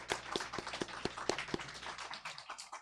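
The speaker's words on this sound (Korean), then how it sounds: "우리 격려의 박수 하나님께 드리겠으면 좋겠습니다." A church congregation at a Sunday worship service claps in a quick, regular beat of distinct hand claps, then loosens into scattered, softer applause; moderately faint and without talk.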